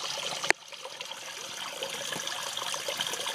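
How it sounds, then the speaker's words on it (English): Steady rushing and trickling of a small waterfall splashing into a fish pond, continuous and fairly soft, with one brief sharp knock near the start. "And you can hear the waterfall."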